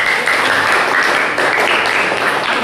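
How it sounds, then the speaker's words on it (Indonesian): A classroom audience claps during a Javanese-language lesson: dense, steady applause that stays loud and even throughout, with no pauses. "beri tepuk tangan nggih"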